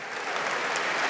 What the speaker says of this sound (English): can you just, with a round of applause, who uses ChatGPT?